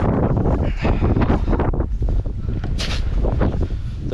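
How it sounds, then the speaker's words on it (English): Strong wind blowing through snow, a steady roaring rush buffeting the microphone, loud and continuous without letup. "The wind is definitely the worst part."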